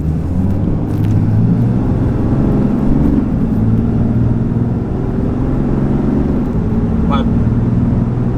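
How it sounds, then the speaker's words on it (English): A RAM 3500 pickup with a Cummins diesel accelerating from a pull-out, a loud, steady low engine drone with a rumbling undertone heard from inside the cab. "I'm gonna hit the gas right now."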